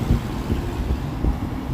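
Steady low rumbling buffet of wind striking a microphone outdoors on a city street, continuous and loud, with no voices.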